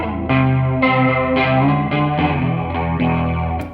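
Electric guitar played through the chorus 2 setting on a Line 6 Pod amp modeler, slightly driven chords shimmering and swirling with a steady strumming rhythm, loud and close, no talking.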